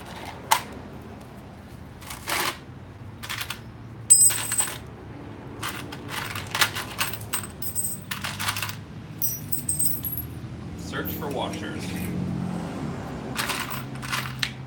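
Metal washers from a Mini Cooper brake job drop and clatter onto a hard surface, a run of sharp, scattered metallic clinks and jingles over several seconds, close by, with quiet handling noises between the drops and no talking.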